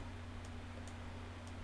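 The Kethane mod's resource detector in a video game gives three short, faint ticking beeps at roughly even intervals over a low, steady hum.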